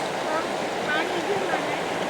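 Steady broadband rush of water flowing at Birthi Waterfall, heard close and continuous, with a faint voice under it.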